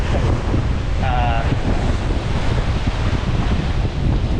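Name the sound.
ocean waves crashing against sea wall, with wind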